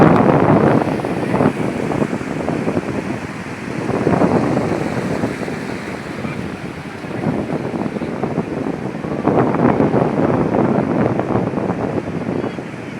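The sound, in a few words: sea waves and wind at the beach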